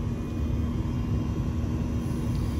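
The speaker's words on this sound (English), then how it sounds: "I can hear my compressor ramps up" A Mitsubishi/Daikin/LG multi-zone HVAC heat pump compressor runs during refrigerant charging with R410, a steady low droning hum that stays even and continuous for the few seconds heard.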